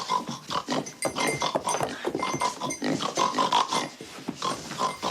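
A woman in the film Misery imitates a pig with loud, continuous snorts and oinking grunts in uneven bursts, close and dominant throughout.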